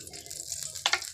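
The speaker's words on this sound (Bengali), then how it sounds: "এই যে তেল দিল," Cooking oil poured into a hot pan for an egg curry, a brief soft sizzle and splash with a sharper burst near the end, quiet and close.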